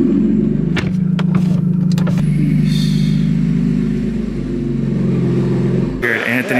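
A BMW engine rumbles steadily close by, a low heavy drone that swells slightly, with people talking over it.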